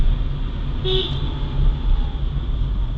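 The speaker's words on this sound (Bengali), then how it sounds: "হর্ন দাও, হর্ন দিয়ে দিয়ে চলো।" A single short car horn toot over the steady rumble of a car driving downhill, with no talking.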